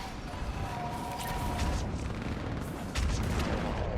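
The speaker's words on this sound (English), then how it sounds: "On that building, we've got fire support." Artillery fire support explosions in the video game Mass Effect 3, booming and rumbling continuously through a dense battle din, with a heavier blast near the end.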